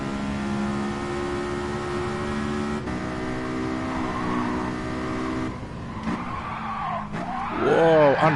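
A race car in Gran Turismo skidding under braking, steady engine drone giving way to a near, loud tyre screech that rises at the end, with no talk over it.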